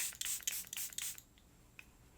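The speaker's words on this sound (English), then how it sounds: "But the Charlotte Tilbury, this is the Flawless Setting Spray." Charlotte Tilbury Flawless Setting Spray misted onto a face: a rapid run of close, hissing spray bursts in the first second, then near quiet with a faint tap.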